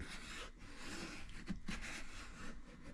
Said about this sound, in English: I don't have one of those actual burnishing tools, you guys, so I just got a piece of wood here to do this.